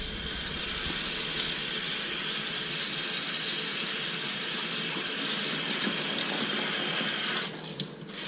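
Water from a tap pouring steadily into orchid bark to soak it for repotting a Cattleya, a continuous close hissing splash that cuts off near the end.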